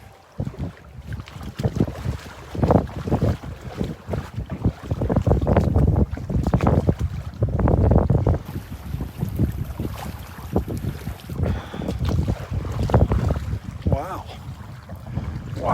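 Gusty wind on the beach at Delnor-Wiggins buffets the microphone in heavy rumbling surges, loud and close, with a faint rush of open air behind it.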